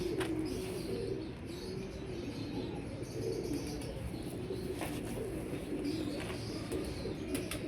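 Lakha pigeons coo softly in low, repeated murmurs, with occasional chirps and faint wing flaps over a quiet, steady background, and no talk.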